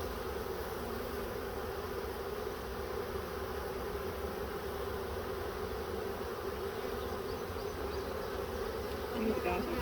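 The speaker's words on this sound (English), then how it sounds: "You got their rear ends up in the air, and their wings are fluttering. They're letting all the other bees know this is where to go." A wild honeybee swarm being collected outdoors, bees fanning their wings with rear ends raised; a dense, steady, loud buzz fills the whole stretch without a break.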